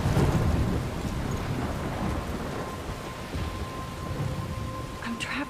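A thunderstorm rumbles in the game Life Is Strange, with low rolling thunder loudest at the start under a constant wash of heavy rain and wind.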